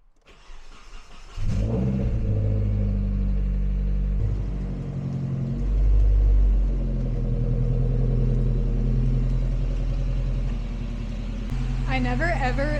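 Nissan S13 engine cranks and catches at about a second and a half, then settles into a steady low rumbling idle with a brief rise in revs midway, close and loud throughout.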